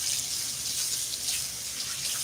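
A brush being rinsed under a running tap: a steady, loud rush of water from the faucet, close by and alone throughout the short moment.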